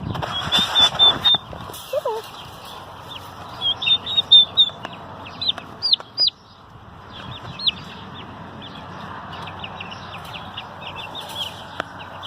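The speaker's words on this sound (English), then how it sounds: "These are actually baby turkeys." Baby turkeys out on grass give thin, high peeping chirps in scattered bursts, fairly faint over a quiet outdoor background.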